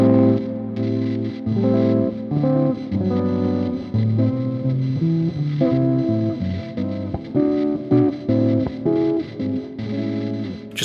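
Jazz chords strummed on a 1983 Gibson Les Paul Custom electric guitar ring out one after another in a steady, unhurried sequence of full, sustained voicings, played alone without voices.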